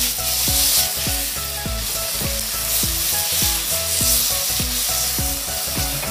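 Ginger and garlic fry in a pan for a quick kimchi pork dish: a bright, constant crackling sizzle, close and loud, with regular scraping strokes of a utensil beating out a steady rhythm.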